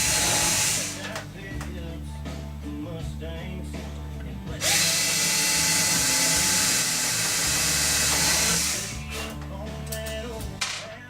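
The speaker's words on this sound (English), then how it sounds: "Then I go ahead and drill my other two holes." A power drill whirs in bursts, drilling holes in a revolver build, spinning up and winding down twice, loud and close, with a hissing whine over a low rumble.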